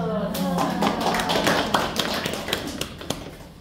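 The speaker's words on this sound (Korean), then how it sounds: "자, 박수." An audience claps scattered, uneven applause at close range, with individual sharp hand claps standing out over a murmur of voices.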